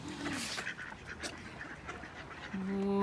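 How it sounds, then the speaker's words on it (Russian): A pair of ducks, a duck and a drake, give a few short quacks, fairly faint and outdoors, with a longer nasal call near the end. "Уточка и селезень."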